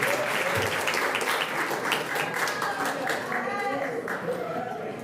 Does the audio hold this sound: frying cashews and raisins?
no